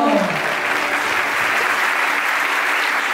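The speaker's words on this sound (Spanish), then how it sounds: "¡Un aplauso!" Conference audience breaks into loud, sustained applause lasting the full stretch, a dense steady wash of clapping, with a brief voice at the very start.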